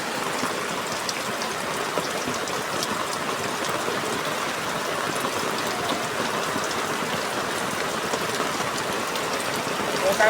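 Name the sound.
rain falling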